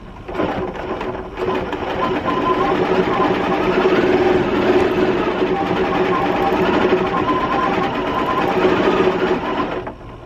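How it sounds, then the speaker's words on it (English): Janome M8 sewing machine stitching free motion, a steady rapid mechanical whir and needle chatter running throughout at close range after a brief start, with a faint voice in the background. "I'm going to work the start stop button. Just so it's going to be a little easier for me. So you hit that, and it's going to start tacking."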